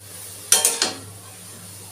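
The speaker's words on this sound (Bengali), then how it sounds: "এবার ওই কড়াইতে আমি একটুখানি জল দিয়ে দিয়েছি এর মধ্যে আমি বাঁধাকপিগুলো দিয়ে দিচ্ছি" Cabbage tossed into a little water in a wok for a shrimp and cabbage ghonto, giving a few close, short scraping stir strokes around half a second in, then quiet, and one more stroke at the end.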